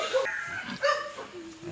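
Several dogs bark and yip near a small hanging bridge in a rural village, two short bursts of sharp barking close by followed by a longer whining, whimpering tone.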